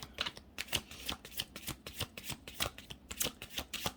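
Tarot cards are shuffled close up in a quick, steady riffle of papery flicks and slaps, soft and continuous for several seconds, with no voices.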